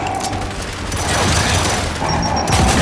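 A frag grenade goes off in the video game Gears of War 5, giving a loud, rumbling blast layered with crackling gunfire and debris. The sound is dense and sustained, and a brief electronic beep sounds near the middle.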